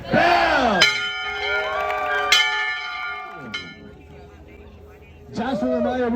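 A bell rings out at a college acceptance celebration with two or three sharp clanging strikes whose tones hang and fade, while a crowd cheers and shouts around it.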